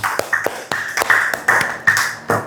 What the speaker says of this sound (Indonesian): tepuk tangan buat Bintang.